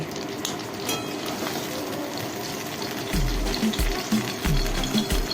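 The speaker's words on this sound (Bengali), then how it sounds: "মাছগুলো কিন্তু এপিট ওপিট করে আমি ভেজে" Bhola fish frying in oil in a home kitchen, turned from side to side, giving a steady close sizzle with a few soft bumps and scrapes near the end.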